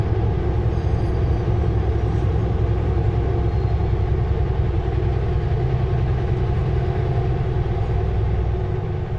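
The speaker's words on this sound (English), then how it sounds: "Oh, there's a train going by." A loud, continuous low rumble and rattle of a train passing nearby, holding steady for the whole stretch with no voices.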